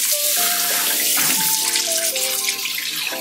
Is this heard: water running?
yes